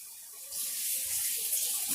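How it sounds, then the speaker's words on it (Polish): Running tap water pours steadily as something is washed under it, a soft hiss starting after a brief quiet moment and continuing to the end. "to ja właśnie już myję to"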